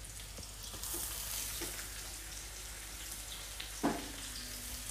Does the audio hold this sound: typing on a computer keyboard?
no